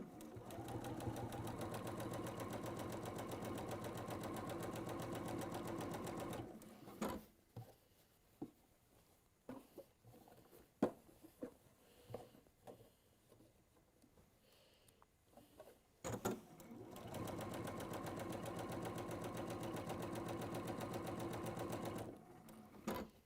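A sewing machine stitches through fabric in two long, steady runs. Between them comes a quiet pause filled with small handling clicks and rustles.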